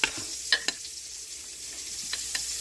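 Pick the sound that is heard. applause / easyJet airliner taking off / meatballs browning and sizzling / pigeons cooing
meatballs browning and sizzling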